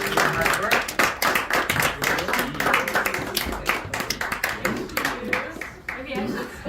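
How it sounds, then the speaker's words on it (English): Audience applause for a speaker at a Building Heaven presentation, a dense, close burst of clapping that fills the clip with uneven rhythm, with some voices mixed in. "Why don't we have a round of applause?"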